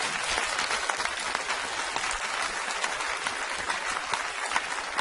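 A TV studio audience on a Norwegian guest show claps loudly and continuously, a thick sustained roar of hands with scattered sharper claps.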